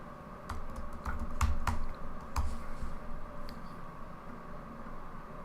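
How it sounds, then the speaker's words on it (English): Around eight crisp clicks come from someone typing a single word on a computer keyboard, in short bursts against a low background hum. "I typed the word password"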